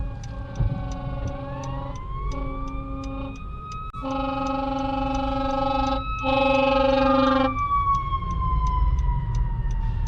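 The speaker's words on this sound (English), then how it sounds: "Yep, I can hear the siren." Wailing fire truck siren heard from inside a car on a cold day, sweeping up and down with a blaring horn section in the middle, loud and steady throughout with road noise underneath.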